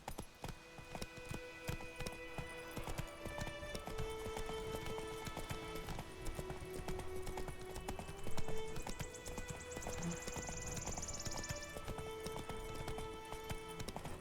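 Hooves of the horse Roach clip-clop at a steady gallop in The Witcher 3, running continuously under a bed of game music with a faint whinny partway through.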